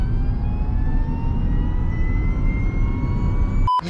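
A Ligier Myli electric microcar, a licence-free car, accelerates with a loud, steady electric motor whine that climbs in pitch over heavy road and wind rumble, close up, ending in a brief click.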